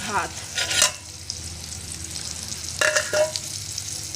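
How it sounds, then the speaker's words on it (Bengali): Pointed gourd frying in a pan, with scraping stir strokes and a steady low sizzle underneath, no one speaking. "এখানে পটল ভাজাটা বসিয়ে দিয়েছি"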